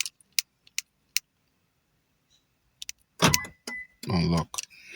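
A 2015 Toyota Venza responds to its remote key with a series of sharp, isolated lock clicks, followed by a voice talking.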